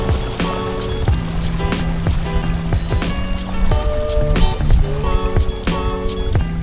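A kayak driven by a Bixpy N-3 electric motor moves across open water, with a steady close motor drone and water splashing, punctuated by repeated sharp knocking clicks throughout.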